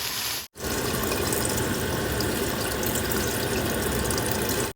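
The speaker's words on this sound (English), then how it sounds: "Now we add the water." Water runs steadily into a cooking pot of beef stew at home, a close, even rushing stream with a brief break near the start.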